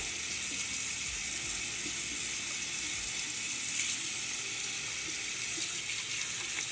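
Tap water runs steadily from a faucet to wet a Bobbi Brown bronzer brush, a constant close hiss with no talking over it.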